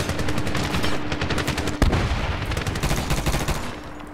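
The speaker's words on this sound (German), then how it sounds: "Ich höre hier bloß Geballer und Geknall" Gunfire in the Medal of Honor video game, set in Afghanistan: rapid, continuous machine-gun bursts with a sharp louder crack or blast partway through, dense and fairly loud throughout.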